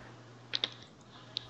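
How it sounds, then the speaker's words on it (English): Several light, quick clicks from a computer keyboard or mouse sound faintly against a low steady hum, with a pair close together and one more a moment later. "I hear someone clicking"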